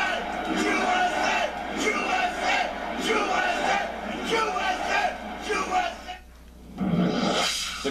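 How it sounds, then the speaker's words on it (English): A crowd at a Trump rally in Phoenix, Arizona chants in loud, rhythmic bursts close by, the massed voices rising and falling for several seconds before a brief lull and a renewed shout. "The crowd was chanting USA."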